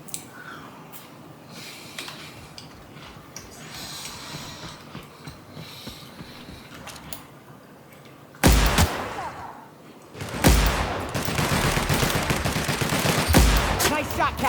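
Guns fire in the sci-fi shooter The Outer Worlds, with a sharp loud burst cutting in after a stretch of quieter sound, then rapid sustained automatic shots rattling on to the end.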